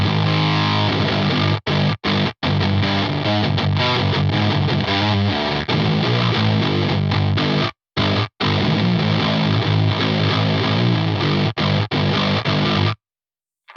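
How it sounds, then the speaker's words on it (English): Heavily distorted 7-string electric guitar driven through an EQD Palisades overdrive used as a boost, playing dense riffs with a thick, saturated tone and several abrupt stops of silence between phrases. "the boost is giving it a bit of distortion as well"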